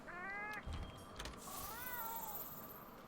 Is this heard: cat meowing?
yes